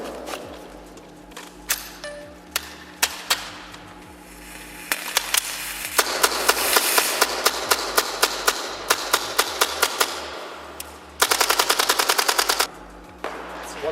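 A Tippmann airsoft M4 gas blowback rifle fires close and loud. Single sharp cracks come first, then rapid full-auto bursts, and the shots run on until the magazine empties and the firing stops.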